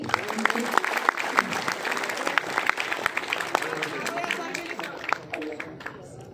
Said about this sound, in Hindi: तालियां बजाओ भाई।